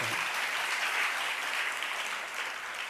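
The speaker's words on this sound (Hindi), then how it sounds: "आप लोगों ने ताली बजा दिया" Steady audience applause at a Jain religious discourse by Acharya Vidyasagar, a dense even wash of clapping from a large gathering, close and continuous.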